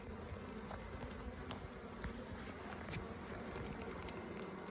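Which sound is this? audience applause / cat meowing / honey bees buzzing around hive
honey bees buzzing around hive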